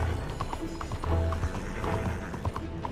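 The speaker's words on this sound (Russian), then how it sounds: "Ну-ка, я эту лошадь могу оседлать" Horse hooves clip-clop steadily in the video game Red Dead Redemption 2, set within a dense, continuous wash of game ambience and rumble.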